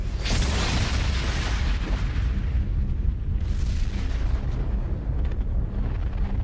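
A sustained, rumbling explosion standing in for a star blowing apart as a supernova, with a broad roar that swells at the start and surges again midway, loud and unbroken throughout with no voices.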